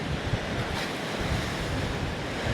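Sea waves surge into a seaside cave at Hua Hin and splash up onto the walkway, a loud churning wash with gusty wind buffeting the microphone throughout.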